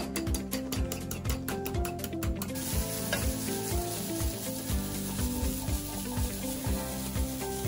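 Broccoli sautéing with a pinch of pepper in a pan for a frittata gives a steady, close sizzle that runs the whole time, with regular stirring scrapes and light clinks.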